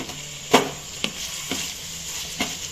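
Chicken being stirred and mixed in a frying pan, with a few distinct utensil scrapes spaced about half a second apart over a faint sizzle, no talking.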